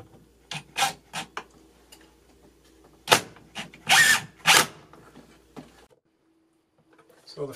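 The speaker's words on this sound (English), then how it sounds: "I'm going to use these number 8 1 1/4 inch screws to install the clips" A drill drives number 8, 1-1/4 inch screws through metal clips into wooden blocks on a bathroom ceiling during hat channel installation. It comes as a string of short, sharp whirring bursts separated by pauses, close by, then quiet near the end.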